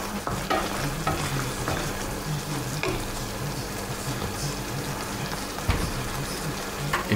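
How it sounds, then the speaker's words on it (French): Mushroom sauce thickened with cornstarch sizzles and bubbles in a pan as stock is added, making a steady, close crackling fry with faint stirring and scraping and no voices. "je rajoute un petit peu de fond, un peu de bouillon"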